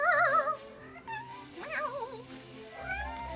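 Cries of Shinx, the small cat-like Pokémon in Pokémon Shining Pearl, sounding as several short warbling meow-like calls, close and clear, separated by brief pauses.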